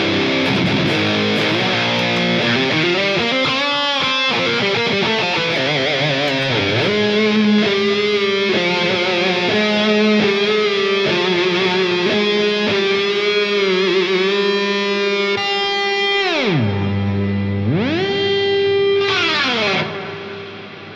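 An electric guitar played through a Line 6 POD GO with reverb and echo, plus drive, rings out in sustained distorted chords and swelling notes with long repeating tails, loud and continuous with no talking.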